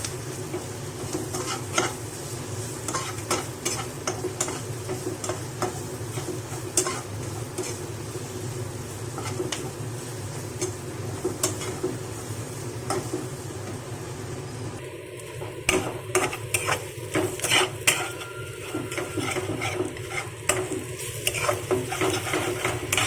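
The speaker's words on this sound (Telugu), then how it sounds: "దీన్ని కూడా పచ్చి వాసన పోయే వరకు వేయించుకోవాలి" Freshly ground ginger-garlic paste frying in a pan for a fish fry curry, giving a steady, continuous sizzle with occasional spoon scrapes and clinks, busier and more clattery in the later part, with no talking.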